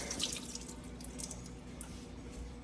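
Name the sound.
rinsing frozen meat under running tap water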